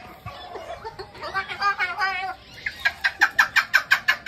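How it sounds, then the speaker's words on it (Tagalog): A Moluccan parrot gives a run of loud, harsh, evenly spaced squawks at close range, following a stretch of raspy, chattering calls. "ito yung sinasabi nilang Moluccan parrot"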